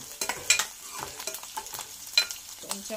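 Onion tempering sizzles and crackles in a hot pan as a spoon scrapes and stirs in uneven strokes, close by.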